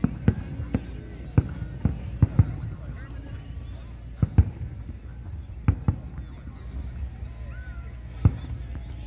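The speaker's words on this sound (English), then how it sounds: "Low fireworks and high ones." Fireworks bursting on the 4th of July, seen from a car driving home along a highway: a series of sharp booms and cracks at irregular intervals, some near and loud, others distant, over a steady low road rumble.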